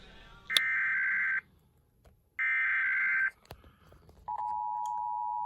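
EAS emergency alert tones relayed from CPTV: two long steady attention-signal bursts separated by a pause, then a lower continuous tone beginning, loud against faint background noise.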